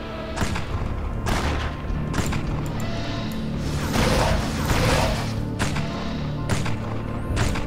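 Repeated thuds, booms and crashing bursts of monsters exploding pile up in a dense, loud stream of Torchlight combat effects with whooshing swipes between impacts.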